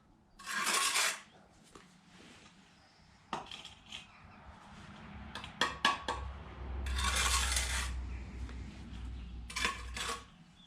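A steel trowel scrapes excess mortar off a freshly laid brick wall in several short, sharp strokes, with light metallic clinks and taps between them and quiet stretches in between.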